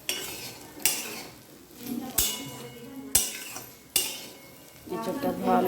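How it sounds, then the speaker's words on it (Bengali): Green jackfruit stir-fried in a pan, with a spatula striking and scraping the metal in about five sharp, regular clanks over a low sizzle. "এবার এটাকে বেশ কিছুক্ষণ ভালোভাবে কষিয়ে নিই"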